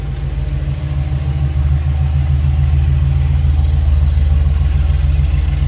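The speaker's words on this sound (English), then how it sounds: "a nice little rumble coming out of that 340. Nice deep throaty exhaust note." A 1940 Plymouth Deluxe sedan street rod with a 340 engine idles, its exhaust putting out a loud, deep, throaty rumble with a steady pulsing beat.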